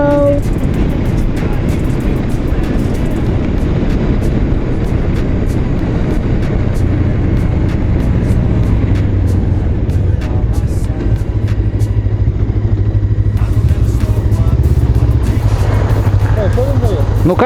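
Honda CB500 and CBF500 motorcycles racing, their engines a loud continuous roar and drone that holds throughout, with someone talking over the noise.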